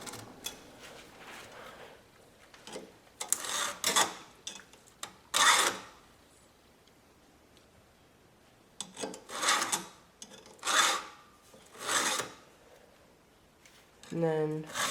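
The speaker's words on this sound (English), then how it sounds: "So I'll sharpen all the right hand cutters" A hand file sharpens the right-hand cutters of a chainsaw chain in a series of rasping metal strokes, grouped in bursts with short pauses between them, and a brief rattle at the end.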